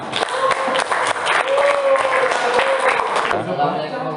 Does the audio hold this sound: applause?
yes